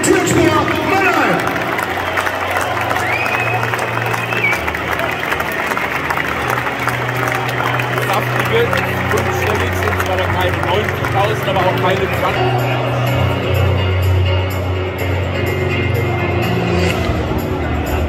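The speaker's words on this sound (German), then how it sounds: "Herzlichen Glückwunsch und riesen Applaus für FC Türkspor Mannheim" Crowd applause and cheering for the FC Türkspor Mannheim football team at a cup award ceremony, a steady broadband roar of clapping and voices sustained throughout, with talk and a low hum underneath.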